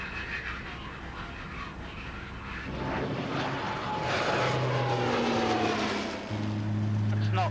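A spotter plane flies overhead during a Royal Navy fishery patrol at sea, its engine drone swelling from a distant rumble to a loud, sustained roar that lingers over wind and boat noise.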